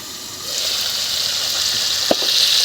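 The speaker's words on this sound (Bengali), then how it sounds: "হলুদ দিয়ে তেলে ভাজা হচ্ছে" Broiler chicken pieces fry in hot oil with turmeric, a steady, fairly loud sizzle running throughout, with a couple of brief sharp knocks near the end as the pan is stirred.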